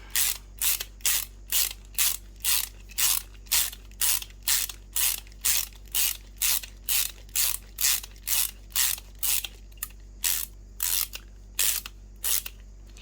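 Cutter working steadily while making a Q-Snap frame, a close, regular series of rasping strokes repeating about twice per second over a low steady hum.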